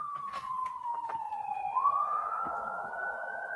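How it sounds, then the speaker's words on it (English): Ambulance siren passing a house, a single sustained wailing tone that sweeps down then climbs back up, moderately loud and outdoors-muffled, with a little background rumble. "ambulance going right by your house for some reason"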